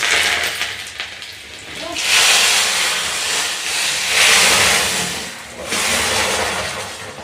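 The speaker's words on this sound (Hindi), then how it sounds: "अब हम फिर से इसमें तड़का लगाएंगे लहसुन का।" Garlic tempering sizzles in a pan of pumpkin-leaf greens at home, a loud continuous hiss that swells in several surges as the hot oil hits, with no talking over it.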